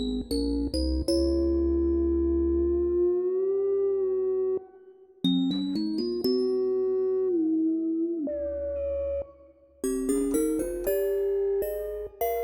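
A granular effects plugin, Motion Fractal, runs with its morph control maxed out, turning sustained synth tones into gliding, howling pitches with sharp bright clicks and swells, loud and alone across several distinct phrases.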